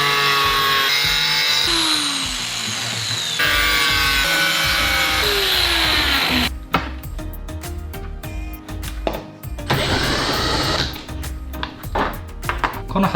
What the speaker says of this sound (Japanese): 使う分にカットしてボートの方溶接していきたいと思います